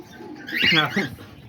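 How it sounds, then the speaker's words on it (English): Pet budgies, lovebirds, diamond doves and cockatiels chirp and twitter close by in one brief, lively burst over soft rustling. "here's all the birds once again, all over me right here"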